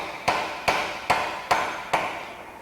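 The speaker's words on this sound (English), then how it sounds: "Now I can continue that way with that ball peen hammer" Ball peen hammer peening over a heated tenon into a rivet head on a blacksmith-made garden gate, five evenly spaced ringing metal blows about every 0.4 seconds, close and clear with no talk.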